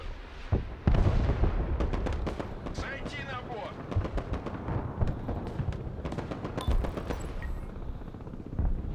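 Artillery in the war video game Broken Arrow fires in a string of sharp booms and crackling blasts spread across several seconds, mixed with game battle noise and player voices talking over it.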